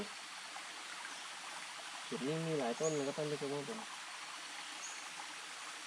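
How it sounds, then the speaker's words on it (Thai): A small waterfall and stream flow through a humid southern rainforest, giving a steady rushing hiss throughout, while someone speaks briefly in the middle. "เหมือนข้างหน้าจะเป็นน้ำตกเล็ก ๆ"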